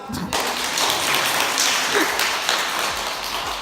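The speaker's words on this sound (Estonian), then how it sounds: "Selle peale aplaus." A crowd applauding at a 2018 dance camp event, steady dense clapping sustained throughout at fairly loud level, with a brief quieter moment at the very start.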